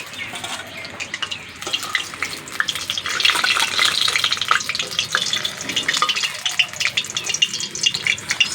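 Cabbage snack pieces fry in hot oil with a steady, dense crackle and spatter that swells louder after the first few seconds and carries on unbroken, with no talking.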